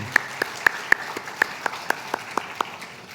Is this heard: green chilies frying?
no